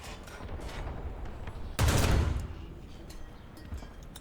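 Gunfire in the tank game War Thunder: a sharp, loud blast with a short rolling decay stands out against a steady rumble of battle noise, followed by fainter distant thumps.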